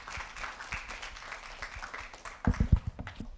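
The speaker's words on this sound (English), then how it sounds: "Clap for yourself." Junior secondary schoolchildren at a human rights week event clap for themselves, a scattered crowd applause that swells into a burst of louder, closer claps near the end.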